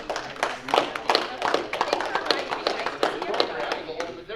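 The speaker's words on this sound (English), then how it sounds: "We clap to it." Small group at a Rotary Club meeting clapping together after a workplace yoga talk; brisk, fairly close claps in an irregular flurry, with voices mixed in.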